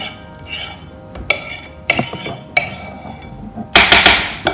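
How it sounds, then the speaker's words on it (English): A mixing bowl of cream being scraped down partway through churning it into butter: a few sharp, close clanks and scrapes in separate bursts, ending in a louder clatter, with no talking. "I'm going to stop, scrape down my bowl again."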